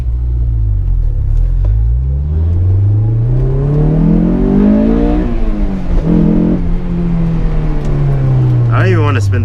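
A Honda S2000 convertible in winter revs hard through first gear, its engine note climbing and rising sharply as VTEC engages, then easing; loud, close and continuous.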